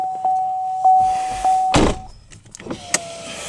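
Power windows on a 2016 Chevrolet Cruze Limited LT close, a close electric motor whine running in steady stretches, followed by a solid thunk as the glass seats and a few small clicks, with no talking.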